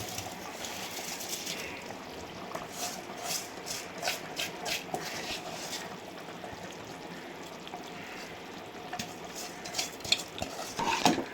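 Washed rice is stirred into a pot of boiling water for a plain rice bath, giving a steady wet swishing and scraping with light clinks of a utensil against the metal pot throughout, and no one speaks.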